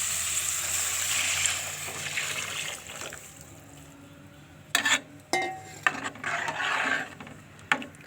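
Tamarind mixture poured into a hot pan for a korava fish curry, a soft liquid splash and trickle over steady background frying hiss, with a few sharper clatters near the end.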